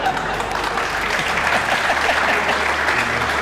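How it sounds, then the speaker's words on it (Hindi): Studio audience applauding on a Pakistani comedy game show, a thick, continuous roar of many hands clapping at steady loudness throughout. "तालियां बजाएं"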